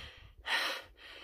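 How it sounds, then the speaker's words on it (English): A hiker on the Pacific Crest Trail climbing near 11,800 feet lets out one heavy, breathy exhale between quieter panting breaths, close and faint. "I don't think I've ever been so out of breath."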